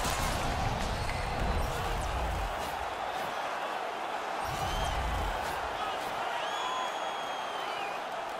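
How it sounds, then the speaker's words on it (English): A crowd at an ice hockey playoff game keeps buzzing loudly after an on-ice fight, with a steady roar of voices, puck and stick clatter, and skate scrapes throughout. "this crowd still buzzing after what we saw just a few moments ago"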